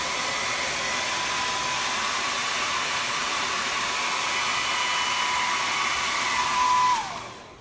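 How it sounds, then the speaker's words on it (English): A hair dryer blows steadily to dry glitter on a chalk transfer, a loud, even whoosh close by that winds down as it switches off near the end. "I'm just gonna blow dry this to make sure"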